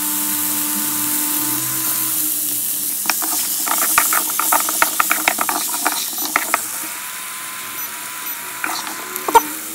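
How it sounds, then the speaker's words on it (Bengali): Potatoes with salt and turmeric fry in a pan, giving a soft continuous sizzle with a run of sharp clicks and scrapes of stirring in the middle, close and moderately loud. "আলুগুলো ভাজা হয়ে গেছে"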